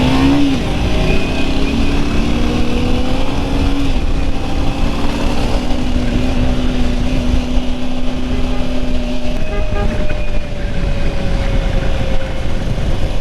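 A vehicle on the road to Manali pulls away from a stop and revs up into a loud, continuous engine drone, heard close from inside.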